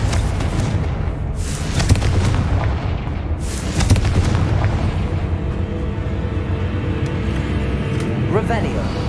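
Heavy booms and blasts from a Confringo fire spell in the Hogwarts Legacy video game burst through dense, loud game noise, with a voice shouting over the din.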